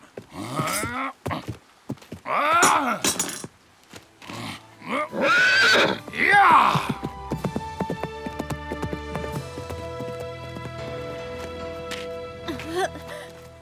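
A horse neighs and whinnies several times in loud bursts, followed by hooves and then a sustained musical tone.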